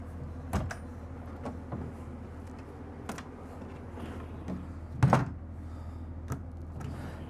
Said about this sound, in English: You've got another nice privacy door here.